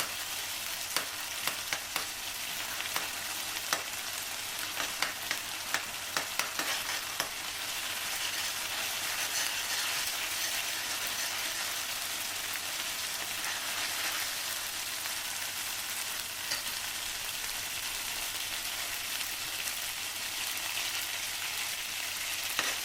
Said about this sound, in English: one spoon ginger paste, 1 spoon garlic paste. Saute for 2 minutes.